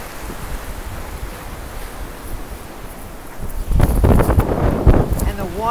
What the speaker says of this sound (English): I could fall asleep with the noise of the crashing waves.